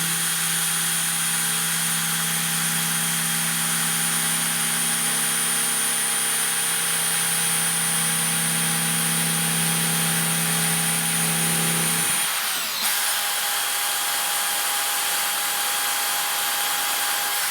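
A spinning wheel from a 1923 GE AOU loop-handle fan, tarnished and rubbed with quad zero steel wool, makes a steady motorized whir with a high whine. The whir stops abruptly near the end, leaving a faint hum.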